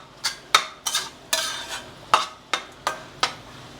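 Onions and coriander fry in a pan for egg pulusu as a spoon stirs them, giving about nine sharp, evenly spaced scraping clatters over a soft sizzle, close up with no talk.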